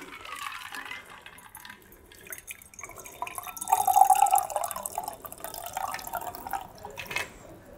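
A French 75 cocktail is strained from a shaker into a champagne flute, giving a soft trickling pour and dripping, close but quiet, that swells briefly in the middle.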